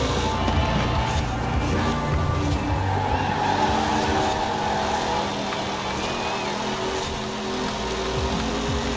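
A Porsche 914 lapping a circuit in Forza Horizon 4, its engine droning loud and steady with shifting pitch and faint tire squeal throughout.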